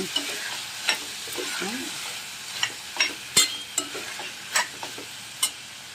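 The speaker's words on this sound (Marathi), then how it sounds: "ह्या भाज्या अशा तेलावरती परतायच्या आणि आपला मसाला घालायचा" Peas, cauliflower and cashews are sautéed in hot oil, with a steady close sizzle broken by sharp clicks and scrapes of a spatula stirring the pan in irregular strokes.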